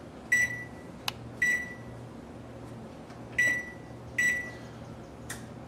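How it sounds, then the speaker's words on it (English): Oven control panel beeping as it is set to preheat to 350 degrees for meatloaf; about four short, clear electronic beeps with brief button clicks between them, close and isolated over quiet room noise. "we should preheat our oven"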